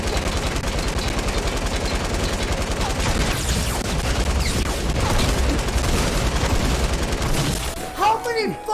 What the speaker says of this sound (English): I was literally unloading the whole fucking clip